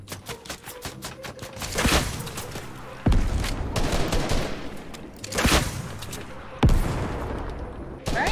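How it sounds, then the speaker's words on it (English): Repeated bursts of gunfire in Fortnite, loud and close, with several sharp volleys and rapid shots spread across the stretch, some voice underneath. "Where are you shooting?"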